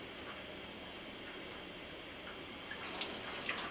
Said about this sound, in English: Rinsing starts from the fingertips to the hand, to the wrist, to the elbow in one motion.